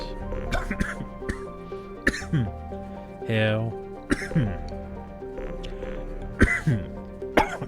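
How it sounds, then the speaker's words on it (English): Several harsh coughs and throat clearing from a man playing Mass Effect 2 Legendary Edition, scattered through the stretch with brief muttered speech between them, close and fairly loud. "Damn this cough."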